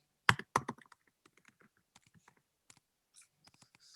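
Computer keyboard typing, close and dry: a couple of loud opening strikes, then a sparse, uneven run of lighter key clicks with short pauses between them, and no voice present.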